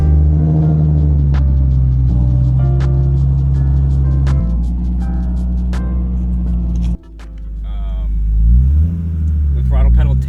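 TC Euro BMW E36 M3 test car with individual throttle bodies driving on the road, its engine droning loudly and steadily, then dipping and rising again as the revs change near the end.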